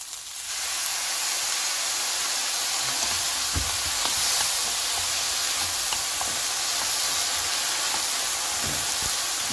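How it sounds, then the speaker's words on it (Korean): Shishito peppers stir-frying in a hot pan give a sudden, loud, continuous sizzle as they hit the oil, with occasional light clicks from stirring. No one talks over it. "꽈리고추를 볶으다가요"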